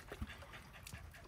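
Dog at a rural mountain home panting softly with a faint whimper, quick breaths heard close but quiet over low background noise.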